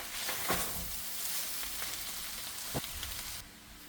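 Papaya and longganisa filling for Ilocos empanada fries in a pan with a steady, close sizzle. A few soft clinks and stirring knocks rise briefly above it, and no one speaks.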